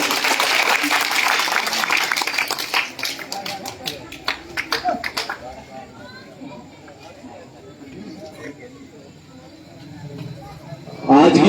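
Clapping crowd at a night-time Bhim Army rally held outside a house, greeting a speaker invited to the stage: dense applause for the first few seconds thinning into scattered claps, then murmur and low crowd noise.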